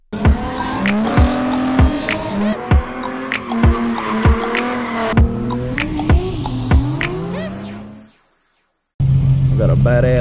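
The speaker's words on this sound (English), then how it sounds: "Got a badass Mustang right there, boy. He be giving it the sauce. That just sounds nice, though." Ford Mustang at a Super Car Sunday car show revving hard with squealing tires, loud rising engine tones punctuated by sharp bursts, fading into a brief silence before another engine drone cuts in.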